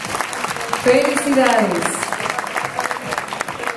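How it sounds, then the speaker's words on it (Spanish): Audience at an awards ceremony applauding honorees, a steady wash of clapping heard under a voice speaking Spanish, with the applause continuing throughout at moderate loudness. "el fuerte aplauso para ellos"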